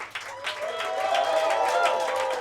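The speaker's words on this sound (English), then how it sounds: "another round of applause" A comedy club audience in a basement venue applauds steadily, a dense wash of clapping that swells and holds throughout, with some voices mixed into the crowd noise.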